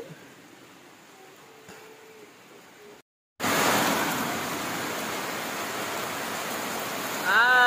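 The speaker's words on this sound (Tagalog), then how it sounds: "Malakas na yung ulan." Quiet outdoor hiss drops out, then a loud, dense roar of heavy rain takes over and keeps pouring steadily.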